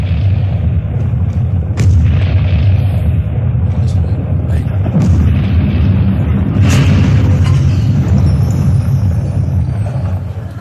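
Deep rumbling booms and bursts of explosion sound effects roll on continuously, a dense, loud bunker ambience.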